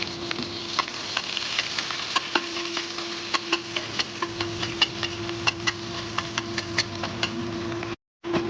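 Garlic frying in a home-cooking pan, with a steady low sizzle and scattered sharp crackles and pops throughout, a faint constant hum underneath, and a brief dropout near the end.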